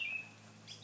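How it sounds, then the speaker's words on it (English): Faint birds chirping in a backyard on a cool, sunny day, a few thin, high tweets in the distance over a low, steady outdoor hum, with no voices. "the birds are having a party"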